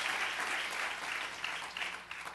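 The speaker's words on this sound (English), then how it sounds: "Give her a round of applause." Applause from an audience at a talk, a dense, steady wash of clapping that stays loud throughout and tapers slightly near the end, with no voices over it.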